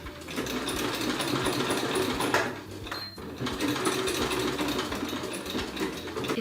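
A sewing machine runs forward and then in reverse several times to lock a seam on a pair of pajamas. It gives a continuous, fairly quiet whirring of rapid stitches with a short pause near the middle and a change in rhythm where the direction switches.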